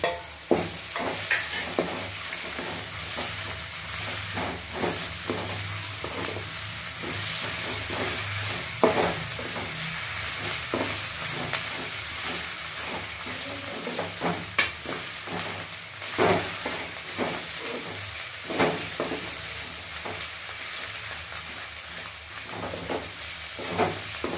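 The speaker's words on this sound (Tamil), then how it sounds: "இப்போ இந்த இதில் வந்து இஞ்சி பூண்டு பட்டை லவங்க எல்லாம் வச்சு அரைச்சி வச்சுருக்குறோம், இதை போட்டுக்கிறோம்" A ground paste of ginger, garlic, cinnamon and cloves fries with browned onions for an ivy gourd gravy, giving a continuous close sizzle and hiss with frequent scraping stirs throughout.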